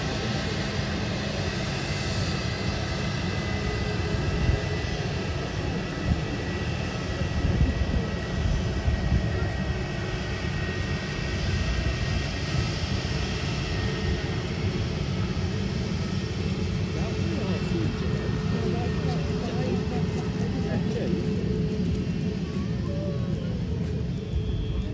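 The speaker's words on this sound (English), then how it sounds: "This is airline Boeing canal taxi to the runway." Boeing airliner taxiing toward the runway at Manchester airport, a steady broad engine rumble and whine held at an even level throughout, with a faint high tone above it and no clear voices.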